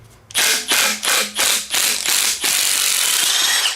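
A pneumatic impact wrench removing bolts from a car engine, rattling in loud, rapid bursts, about six quick hammering pulses followed by a longer sustained run, close and harsh.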